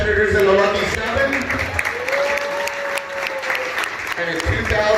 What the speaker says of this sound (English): One last round of applause for all the competitors in the Lucky 7.